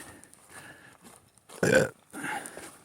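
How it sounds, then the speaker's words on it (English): A single loud, rough burp from a man partway through a hike, sharp and close, standing out briefly between quieter outdoor background noise. "I can burp on my channel."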